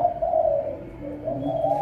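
A pet turtle dove coos close by, giving soft, low, throaty notes in a short repeating phrase with no other sounds around it.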